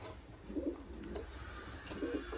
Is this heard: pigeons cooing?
yes